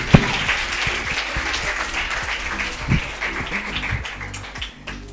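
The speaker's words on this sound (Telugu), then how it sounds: "అయితే ఆ పాపకు కూడా క్లాప్స్ కొట్టండి" An audience at a Sunday school puppet show claps for a girl, with continuous applause from a small group that builds and fades with a few louder claps.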